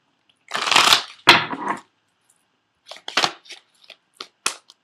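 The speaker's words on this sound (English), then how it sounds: "I'm also going to pull 3 cards from the Doreen Virtue Romance Angel Oracle cards" Doreen Virtue Romance Angel Oracle cards being shuffled close up, two longer riffling bursts followed by several short taps and flicks of the deck.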